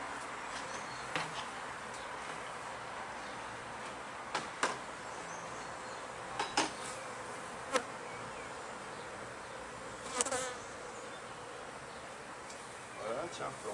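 Honeybees buzz steadily around an open brood frame during queen-rearing and swarm-making work at a hive, a constant moderate hum with a few brief louder passes close by.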